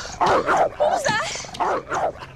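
A dog in a werewolf-versus-vampires action movie gives short yipping barks and whimpers in several bursts, close and clear, while people talk.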